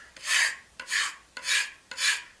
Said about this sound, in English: We're just going to strop it. Make sure you get the heel of the knife, the middle, and all the way up to the tip.